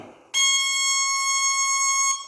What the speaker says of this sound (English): You'll notice I still have the beeper, which I personally like.